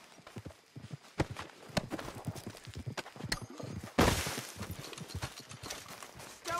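Horse hooves clip-clop in Red Dead Redemption 2, a steady walking rhythm of distinct hoof strikes at close range, with a louder rushing burst partway through and brief talk mixed in.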